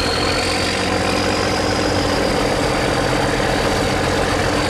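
A sea-racing boat's engine runs steadily out on open water, a loud continuous droning rumble with a constant pitch and no pauses.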